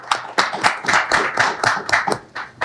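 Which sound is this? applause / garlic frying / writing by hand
applause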